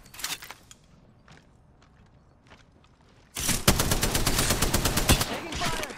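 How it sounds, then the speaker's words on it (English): A sudden stream of rapid automatic gunfire erupts in an Apex Legends match, loud and close, after a quieter stretch of scattered distant shots and footsteps. "Taking fire."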